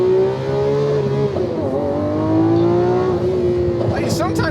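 A 2022 Lamborghini Aventador Ultimae's V12 engine accelerates hard, a loud rising roar that climbs through gear changes with brief dips, and people talk over it.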